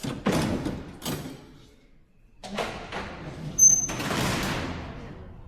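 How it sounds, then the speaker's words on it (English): Heavy metal prison cell doors at Alcatraz clang and thud shut several times, close by and echoing, with a sharp metallic ring on one slam. "that sound you hear is what we here refer to as the sound of the slammer."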